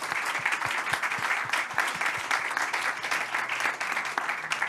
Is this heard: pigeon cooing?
no